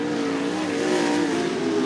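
Limited sprint cars roar around the oval at Cottage Grove Speedway in a steady, loud, sustained engine drone, with no breaks or voices.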